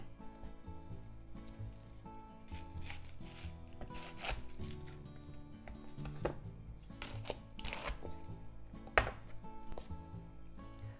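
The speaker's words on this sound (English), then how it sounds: "Let's mince 1/4 of the onion." A knife chops a quarter onion on a cutting board in a home kitchen, giving irregular bursts of quick taps and knocks, close and fairly quiet over a low background hum.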